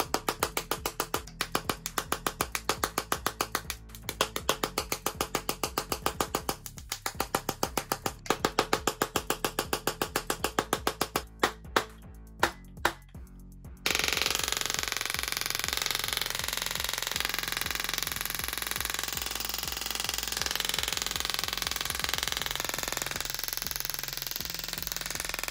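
A handheld Tesla coil running in rapid buzzing pulses, first as a stuttering series of bursts, then as a steady loud continuous buzz, close and with no voices.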